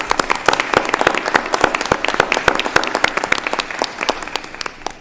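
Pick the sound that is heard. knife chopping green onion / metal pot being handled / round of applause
round of applause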